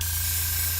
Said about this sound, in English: The airbrush